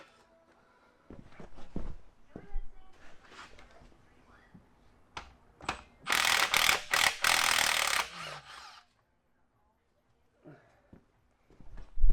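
A ratchet removing a bolt on a 1973 Dodge Challenger during a Hemi swap, with sparse metallic clicks and clunks, then a loud stretch of fast ratcheting and rasping in the middle, in a quiet garage.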